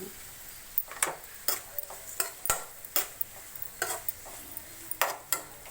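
Curry leaves go into onions frying in a pan and are stirred. A soft sizzle sits beneath a string of sharp, irregular scraping clicks from the spoon against the pan, heard close up with no speech.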